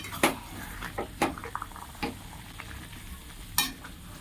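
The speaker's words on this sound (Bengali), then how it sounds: "একটু এপাশ ওপাশ করে নেড়ে নেবো।" Potato and soya chunk curry with garam masala and sour yogurt being stirred in a pan: a few scattered spoon scrapes and clinks over a faint, steady sizzle, with no talking.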